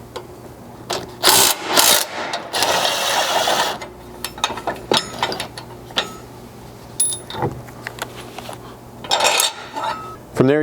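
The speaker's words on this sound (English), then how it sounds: "you can remove both tow hooks with an 18mm socket and wrench" An 18mm socket and wrench working the front tow hook bolts off a ZR2 Colorado: close, intermittent metallic clinks, ratcheting clicks and scraping bursts, irregular and separated by short quiet gaps.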